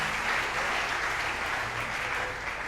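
Congregation clapping during a French-language church service, a dense steady wash of applause filling the room, with no clear voices above it.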